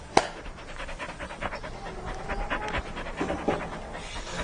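A dog pants rapidly and steadily up close, quick breathy huffs running throughout with a brief sharp noise near the start.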